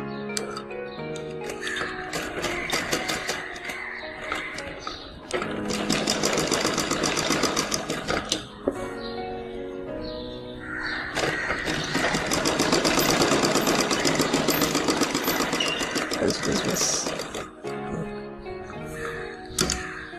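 A sewing machine stitches the neckline facing of a frock in long, continuous runs with brief pauses between them, close and steady, without talk.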